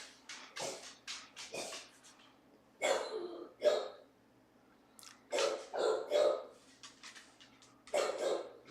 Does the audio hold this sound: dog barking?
yes